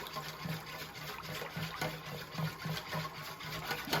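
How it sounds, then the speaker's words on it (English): Pancake batter of liquid with maple syrup is stirred in a bowl, giving soft, quiet wet swishes and faint clinks in a steady circular rhythm. "So gonna give it a nice stir around till everything's nice and combined here."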